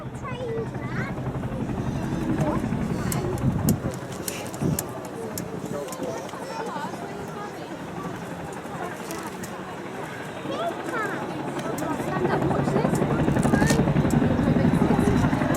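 A Chinook helicopter hovers nearby with its open rear ramp, a loud continuous tandem-rotor roar and thudding chop that swells louder toward the end, with a voice speaking over it.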